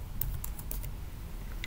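Quick keystrokes on a computer keyboard while entering text into a PDF document, a short run of light, close clicks at an uneven rhythm over a quiet low room hum.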